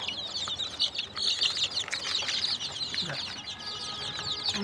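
A flock of chicks, including a few silkie chicks, chirps and clucks continuously in a busy, high-pitched chorus close by, with a faint voice in the background.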